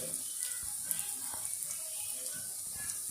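Pakora batter spooned into hot oil sizzles and crackles steadily, a soft continuous hiss with faint scattered pops and light kitchen clatter, with no one talking.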